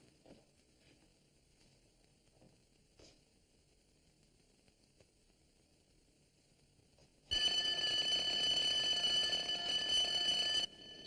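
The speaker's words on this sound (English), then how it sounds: "they're going to test the alarm at the New Mercantile State Bank, so don't come out running when it goes off" A bank alarm under test at the New Mercantile State Bank bursts on suddenly after a quiet stretch, ringing loud and continuous for several seconds with a harsh, bell-like tone before cutting off.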